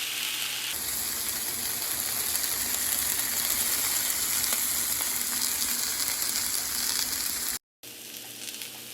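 Beef sizzling and frying in a skillet for Mongolian beef and peppers, a steady, close hiss that crackles throughout and breaks off briefly near the end, with no talking.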